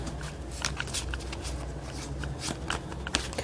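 Tarot cards being shuffled and drawn close by, a continuous papery riffling and flicking with small sharp snaps of cards, fairly quiet, with no speech.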